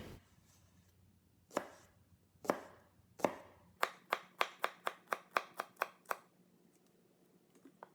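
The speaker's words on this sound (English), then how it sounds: "finally chop the roots, then chop the rest of the scallion" A knife chops washed scallions on a cutting board: a few slow, separate strikes, then a quick, steady run of about ten sharp chops, near and distinct, with no talking.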